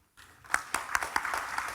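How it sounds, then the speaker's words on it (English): Applause from a panel audience at an academic book launch for a philosopher, starting after a brief pause with a few distinct claps that thicken into moderate, steady clapping from a modest crowd. "let's conclude this panel with a big applause to our speaker"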